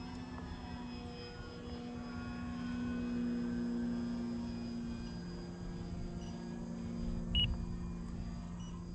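An RC plane, an upgraded Arrows Husky, drones steadily in flight while a short electronic beep from the pilot's minute timer chirps once near the end, fairly faint beneath the motor hum.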